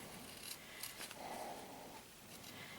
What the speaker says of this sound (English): having a pair of these smaller scissors comes in really, really handy